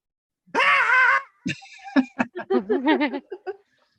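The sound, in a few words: person imitating a goblin's scream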